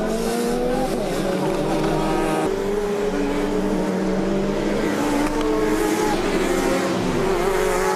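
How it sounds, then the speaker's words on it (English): Touring cars of the FIA Touring Car Championship race at the Autodromo Nazionale di Monza in Italy, several engines whining and droning at high revs with rising and falling pitch as the field sweeps past, loud and continuous. "The field sweeping around the Autodromo Nazionale di Monza, ready for the start of round 2 of the FIA Touring Car Championship"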